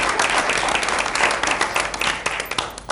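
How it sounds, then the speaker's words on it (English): A room of people at a school board meeting applauds steadily, with dense, close clapping that holds for a few seconds and tapers slightly near the end. "Another round of applause for all of your hard work."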